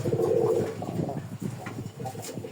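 Golla pigeons coo in a low, throaty run of repeated soft calls, close and steady, with no one talking.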